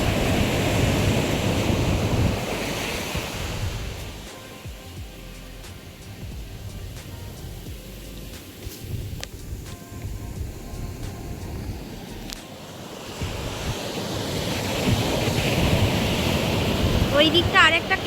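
Sea waves roll onto Dublagadi beach, a broad, steady wash of surf mixed with wind buffeting the microphone. The roar dips slightly midway, then swells louder again toward the end, with no voices.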